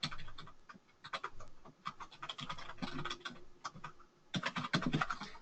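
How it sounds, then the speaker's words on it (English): Typing on a computer keyboard: a run of quick, irregular key clicks close by, with short pauses between bursts and a denser flurry of taps near the end. "My email, I will just type it in the box here for you."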